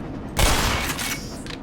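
Gunfire in the video game Black Mesa: a sudden loud burst of shots and rattling mechanical noise that cuts in and sustains for over a second, close and dense, with no voices.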